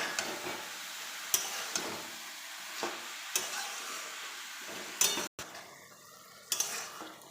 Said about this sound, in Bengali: এবার খুন্তি দিয়ে নেড়ে নেবো ভালোভাবে।